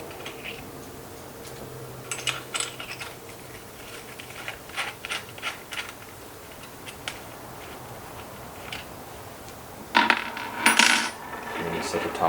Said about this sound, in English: So I'm going to take off the two bolts here.